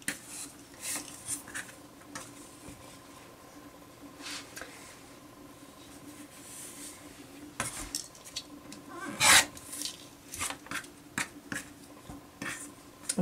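Scissors or a cutter trimming excess fabric off triangle quilt block pieces, soft close rasping and rubbing snips, quiet and intermittent with one sharper crisp cut near the end.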